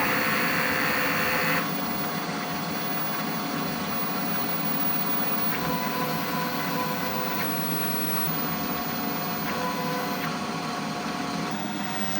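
A printer runs a head cleaning cycle, giving a steady, moderately loud mechanical whir with faint periodic clicks, heard alone and close by.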